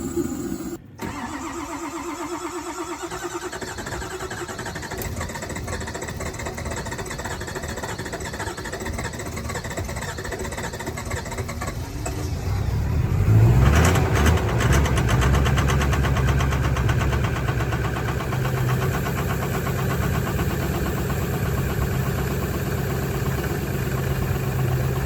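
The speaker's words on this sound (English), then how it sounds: "That wasn't the best cold start I've ever seen" A truck engine warmed by a homemade block heater cranks at length in a cold start, then catches and settles into a steady, rough idle, loud and close throughout.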